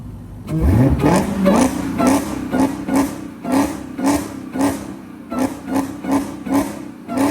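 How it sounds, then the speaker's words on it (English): A Dodge Hellcat engine is revved hard in a series of sharp, loud blips, rising from a deep rumble and then pulsing again and again, close up, with no talking. "I'm finna give y'all boys some revs so y'all get that supercar"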